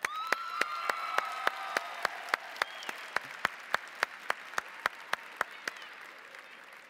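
Applause at the opening session of the 90th National FFA Convention, a quiet, distant wash with sharp, evenly spaced claps cutting through in a regular rhythm before it fades.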